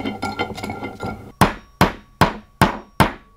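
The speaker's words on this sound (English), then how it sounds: "I can pound it in with a hammer" Hammer pounding a tube into a tight-fitting bearing for a handmade fishing reel, with a soft scraping start followed by six loud, evenly spaced metallic strikes close by.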